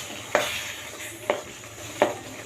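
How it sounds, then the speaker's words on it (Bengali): Olive pickle mixed with spices is stirred in a pan, with three distinct scraping strokes of a spoon spaced about a second apart over a soft background sizzle. "এখন আবারও ভালো করে নাড়তে হবে, যেন আচারটার সাথে মশলা মিক্স হয়ে যায়।"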